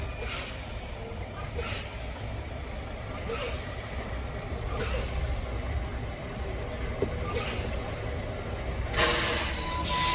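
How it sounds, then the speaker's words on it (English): The air brakes of a truck are pumped repeatedly during a low-air-pressure warning test, giving a series of sharp hissing air bursts about every one to two seconds, with a louder hiss near the end over a steady idling engine. "For this, I'm gonna fan my brakes."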